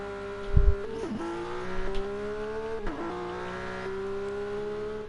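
Race cars heading out on track at Catalunya in GT Sport, engine tones holding a steady pitch with a few brief dips at shifts, continuous and fairly close, no talk over it.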